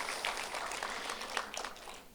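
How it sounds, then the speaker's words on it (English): Steady applause from a crowd at an astronomy lecture, a dense wash of many hands clapping at an even level throughout. "Round of applause."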